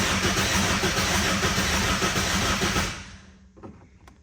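A Honda K24 engine swapped into a 2018 Subaru BRZ cranks over with its injectors unplugged, a loud steady churning drone for about three seconds that then stops abruptly, leaving faint clicks and quiet.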